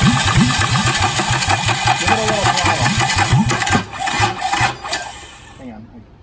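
A waterlogged, long-rusted Yanmar boat engine runs roughly under a bit of throttle, a loud uneven chugging and rasping that falters and dies away toward the end.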